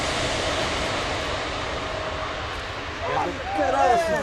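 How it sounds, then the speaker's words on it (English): An Airbus A310 jet airliner roars past in a low pass at an air show, a broad rushing engine noise that swells and shifts in pitch near the end. "This Airbus A310 was doing a low pass when it suddenly turned left and nearly struck its wing."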